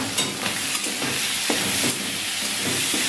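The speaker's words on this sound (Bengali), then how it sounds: "কড়াই দিয়ে দিয়েছি, ভেজে নিই এগুলো।" Prawns fry in hot oil in a wok, a dense, close sizzle with a few brief stirring knocks, steady and loud for about three seconds.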